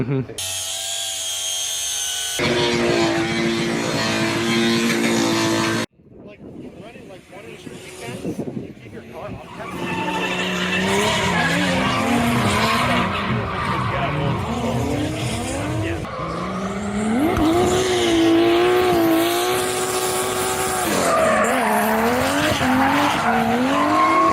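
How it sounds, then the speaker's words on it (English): Cars drifting at the Milwaukee Mile racetrack during a drift event, engines revving hard and tires squealing in long, wavering screeches, loud and sustained with a brief drop near the start, with people talking at times. "me and Steven are going to be here drifting the track"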